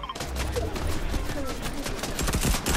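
Dense turret gunfire in the Fortnite video game, a sustained, loud volley of rapid shots filling the whole stretch with little letup.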